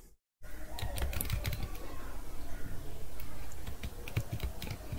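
Rapid, close keystrokes clatter on a computer keyboard as a password is entered, an uneven run of crisp clicks after a short silent gap at the start.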